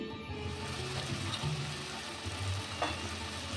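Mashed banana flower frying in a pan, a soft, fairly quiet sizzle with a few faint stirring scrapes, no voices.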